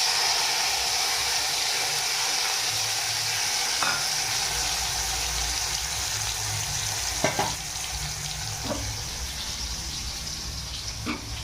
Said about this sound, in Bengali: টমেটোটা দিয়ে এটাকে লাল করে আগে ভেজে নিতে হবে।